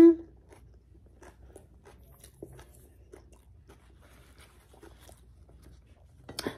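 Quiet, close crunching chews repeat irregularly in soft bursts, with a brief louder noise at the start and end.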